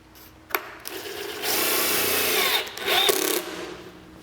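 Power drill driving screws into a wooden subwoofer enclosure for a Ram truck box: a sharp click, then a sustained whirring bite that stops, followed by a second louder burst of drilling, close up.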